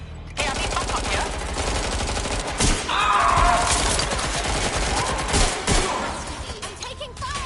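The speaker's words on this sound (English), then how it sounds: "I'm taking fire here!" Rapid gunfire in a PS4 shooter video game, dense and continuous over a steady din of battle, loud and close, with a brief mid-clip swell of other noise.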